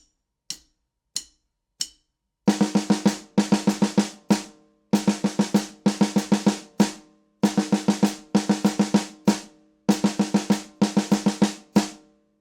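A solo drum kit plays a four-beat rhythm packed with sixteenth notes: a few sparse opening hits, then tight bursts of rapid strokes in repeating groups with short gaps between phrases, close and crisp.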